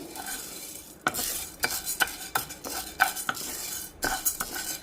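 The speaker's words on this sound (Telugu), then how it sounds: "మంచిగా దోరగా మంచి స్మెల్ వచ్చే వరకు వేయించుకోవాలి బాండి కాగింది సిమ్లో పెట్టే వేయించుకోవాలి" Spice powder ingredients such as lentils dry-roasting in a hot kadai on low heat, a steady run of bright spatula scrapes and clinks against the metal, close and clear, with no talking.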